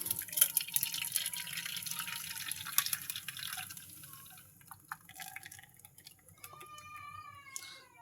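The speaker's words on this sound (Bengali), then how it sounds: "এখন আমি এটা ঢেলে নেব," Pudding mixture is poured and strained through a sieve, giving soft trickling and dripping liquid sounds that thin out into sparse, scattered drips, fairly faint and with no voices.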